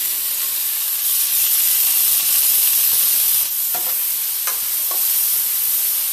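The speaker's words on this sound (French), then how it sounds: "On rajoute un peu d'huile et on cuit l'autre moitié de viande" Beef pieces fry in oil in a pot with a loud, even, hissing sizzle that holds steady throughout, and a few faint clinks and scrapes come through near the end.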